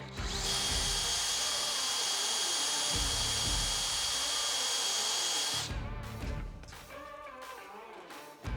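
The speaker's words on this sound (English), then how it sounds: "or at least drill it out." An electric drill bores out a broken retention bolt at the end of a tool and cutter grinder spindle, a loud, steady, high whine that runs for several seconds and then cuts off into clatter and handling noise.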